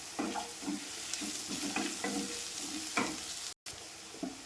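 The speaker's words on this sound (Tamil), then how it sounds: "இது கூட 2 பூண்டு தட்டி போட்டுக்கிறேன்." Chutney ingredients with crushed garlic and dried red chilies sautéing in hot oil in a pan: a continuous soft sizzle with intermittent stirring scrapes and taps, close and fairly quiet, with a brief dropout near the end.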